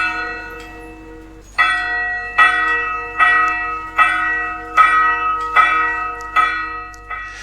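A large church bell rings out in a steady, even rhythm, each loud strike ringing on and overlapping the next, with no voices.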